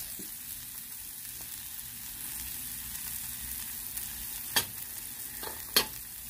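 Peppers fry on a Blackstone griddle with a steady, bright sizzle and two sharp spatula scrapes near the end, with no talk.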